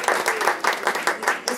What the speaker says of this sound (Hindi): क्या बात है, तालियां तालियां।